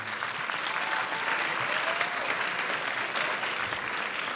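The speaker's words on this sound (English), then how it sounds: "give your parents and all your supporters here a round of applause" A graduation crowd applauds parents and supporters in dense, continuous clapping at a steady level, with a faint whistle partway through and no talk.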